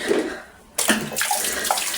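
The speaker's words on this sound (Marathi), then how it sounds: "एकदा जेवढं पाणी ना साफ होईल पाणी टाकून घेतो एकदा मी." Water being poured to clean a drip irrigation filter on a farm, a sudden steady splashing gush starting partway through after a quieter trickle, close and loud.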